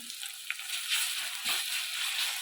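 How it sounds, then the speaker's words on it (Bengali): Chopped onions and garlic paste dropped into hot oil for palak paneer, a bright, steady hiss of frying with a few soft clatters and stirring bumps, close and continuous, no talk. "তেলটা আমার গরম হয়ে গেছে আমি এখানে পেঁয়াজ কচিগুলো দিয়ে দিলাম তেলের মধ্যে রসুন বাটাটাও আমি দিয়ে দিলাম"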